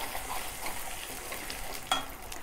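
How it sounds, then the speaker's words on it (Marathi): Thin onion slices sizzle in hot oil for tempering while being stirred, a soft continuous crackle with light scraping, close and fairly quiet, no voices. "थोडीशी कांद्याची पातळी टाकून द्या फोडणीत."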